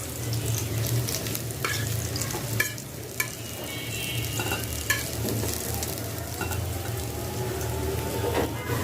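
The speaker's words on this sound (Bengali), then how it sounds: "পেঁয়াজগুলো কিন্তু আমি ভেজে নিচ্ছি পেঁয়াজ ভাজাও হয়ে যাচ্ছে আবার মাছ ভাজাও হয়ে গেল" Onions and fish fry together in a pan, giving a continuous crackling sizzle with occasional sharper pops and stirring scrapes, fairly close and steady, with no talking.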